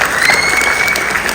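An audience at a Tamil school gathering keeps up a brief, steady burst of applause, an even patter of many hands clapping with no voices over it.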